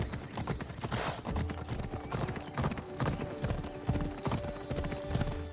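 Horse hooves clip-clop steadily in Assassin's Creed Odyssey, a quick repeating trot that runs through the whole stretch at moderate loudness over game ambience and tonal music.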